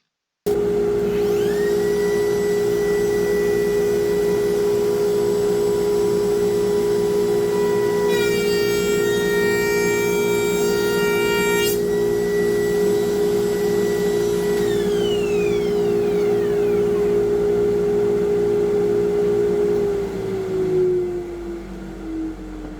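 A high-pitched whining trim router runs steadily for a long stretch with a loud dust-extraction vacuum roar underneath, pitch shifting briefly, then winding down near the end.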